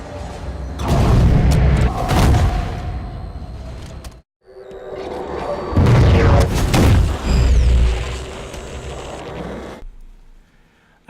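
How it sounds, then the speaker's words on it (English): Guardian Pulses from the Halo 5 campaign finale, two long, deep rumbling surges with whooshing swells and a low boom, separated by a brief silence and fading out at the end. "I added the Guardian Pulses from the very final part of the campaign"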